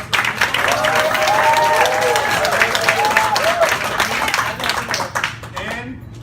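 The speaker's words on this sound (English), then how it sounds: "Give a big round of applause for our MC" Audience applauding for the MC at a live event, loud sustained clapping close by with cheers and whoops mixed in, gradually fading toward the end.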